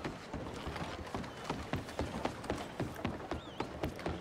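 A horse galloping in Red Dead Redemption, rapid rhythmic hoofbeats thudding steadily and close, with no talk over them.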